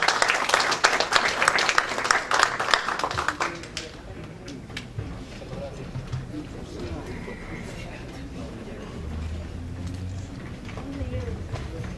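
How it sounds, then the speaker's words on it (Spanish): An audience at a climate change forum in Lima breaks into loud clapping that fades after a few seconds, leaving a quieter murmuring room. "Un aplauso, por favor."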